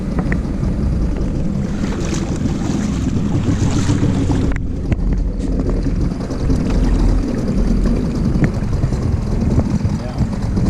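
A 2 hp Spirit outboard motor drives an 18-foot Clipper canoe, its steady drone blended with strong wind buffeting the microphone and water noise throughout, with only a brief dip partway.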